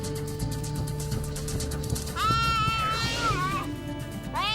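Prey animal caught by cheetahs on the African savanna lets out a loud, drawn-out bleating cry that wavers in pitch, over a continuous background bed of music or narration.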